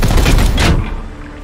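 A burst of gunfire in the video game Warhammer 40,000: Chaos Gate - Daemonhunters: a rapid volley of loud shots that fades out over about a second.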